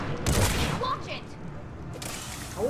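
Rapid bursts of gunfire in the video game Mass Effect 3, dense and fairly loud, running continuously with brief mechanical clicks and tones mixed in, while a voice speaks over the action.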